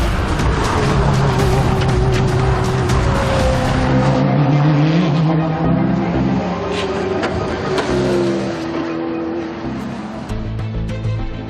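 Subaru race car lapping through the early morning at an endurance event, its engine loud and continuous with rising and falling revs, gear shifts and passing drones, no talk.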